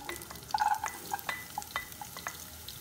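Shallots, ginger and garlic sauté in hot oil over low heat for a Kerala fish curry, with a soft continuous sizzle broken by scraping stirs and a few sharper clinks of the spoon against the pan.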